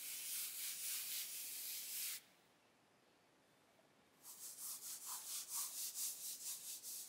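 A computer mouse slides back and forth on a Hystar Mirai mousepad and then a Venus Pro mousepad, soft rhythmic scraping swipes close up, separated by a short quiet gap, with the second surface sounding slightly coarser.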